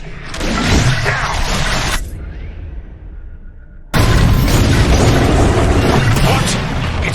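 Bombs exploding in Star Wars Squadrons, two loud booming blasts with a whistling fall between them, close and heavy, with a radio voice mixed in.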